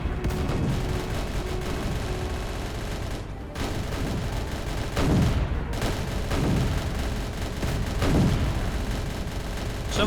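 A video-game battleship fires missiles and guns in repeated booming volleys, a dense barrage with several heavier thuds spaced a second or two apart, loud and continuous.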